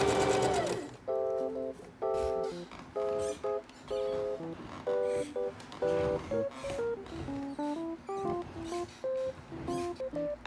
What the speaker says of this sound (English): I'm just gonna pin it all the way across so that it'll stay in place while I run it through my sewing